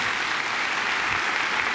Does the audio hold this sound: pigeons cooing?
no